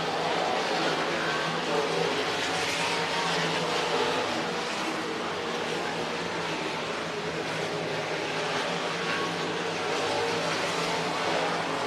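Sprint cars race around a dirt speedway, their engines roaring in a continuous, dense drone that stays loud and steady throughout, with the overlapping noise of several cars in the field and a faint undertone of voices.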